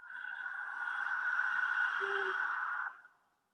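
A deep, steady inhale taken during a guided breathing exercise, a breathy hiss that holds for nearly three seconds and then fades out, close and quiet.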